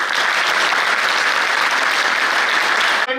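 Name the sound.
applause for honourees at a padyatra event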